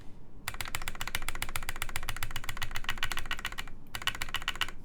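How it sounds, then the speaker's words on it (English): Rapid, steady clacking of keystrokes on a Kitsune TKL mechanical keyboard, close and crisp, with a brief pause before the typing resumes; no voices. "Does it sound like a keyboard? It sure does, Snoopy."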